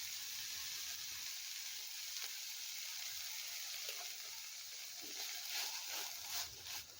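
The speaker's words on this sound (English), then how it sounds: "And then stir fry the kimchi a little bit more" Kimchi stir-fried in a hot pan for taco topping gives a steady, soft sizzle throughout, with faint scraping and stirring clatter rising near the end.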